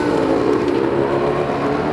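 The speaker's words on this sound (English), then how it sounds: "you will hear something is wrong with my motorcycle" A Harley motorcycle engine running rough and sounding wrong, a steady loud mechanical drone with uneven low rumble throughout, close up and with no talking.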